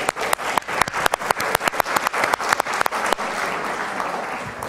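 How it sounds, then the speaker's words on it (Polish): A conference audience at the 2016 ZSŁ event on modern technologies in education and business applauds to welcome panelists, dense clapping with sharp individual claps standing out early, then settling into a steady wash. "przywitajmy ich jeszcze raz bardzo serdecznie i gromkimi oklaskami"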